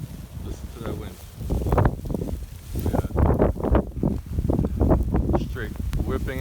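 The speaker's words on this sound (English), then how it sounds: "Listen to that wind." Strong wind roars through a New York City street during a massive blizzard, buffeting the microphone in continuous loud gusts, with a voice speaking over the roar.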